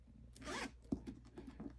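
Zipper on a thrifted handbag with a named zipper pull, pulled in one quick, close rasping sweep, followed by a few soft handling clicks and rustles.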